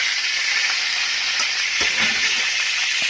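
Steady, dense sizzle of potatoes frying in a hot cast-iron pan over 100 years old, with a few soft scraping clinks partway through; no one speaks.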